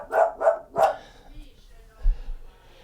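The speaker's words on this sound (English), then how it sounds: "Of course, the dog has to bark now." A dog indoors barks three times in quick succession, loud and close, followed by quieter low thumps and faint room noise.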